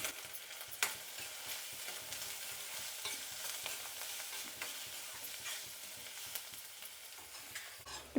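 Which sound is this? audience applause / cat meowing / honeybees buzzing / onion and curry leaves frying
onion and curry leaves frying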